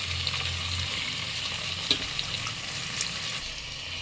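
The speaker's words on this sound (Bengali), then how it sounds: "চালটা তেলের সঙ্গে ভালো করে মিক্স করে দিচ্ছি মটরের সঙ্গে" Rice is stirred into hot oil with frying green peas in a pan, giving a soft, continuous sizzle with occasional light scrapes and clicks from the stirring, quiet and close.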